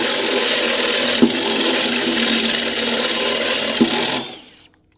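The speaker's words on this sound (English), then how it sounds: "all we're trying to do is just drill the hole big enough to fit these screws" A Ryobi step drill bit driven through a Ford Raptor's steel chassis, a steady loud whirring grind with a couple of brief catches before the drill winds down and stops near the end.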